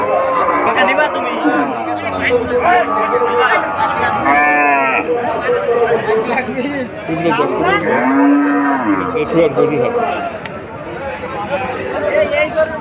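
Cattle moo repeatedly at the Molladanga cattle market amid constant crowd chatter and people talking nearby; several drawn-out lowing calls rise above the busy, noisy background.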